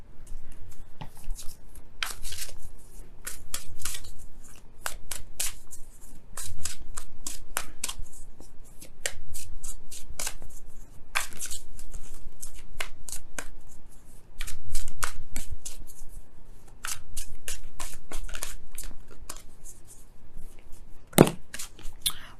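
Oracle cards are shuffled by hand during a tarot reading, with rapid riffling and flicking in repeated bursts close by across the whole stretch, with short pauses between them.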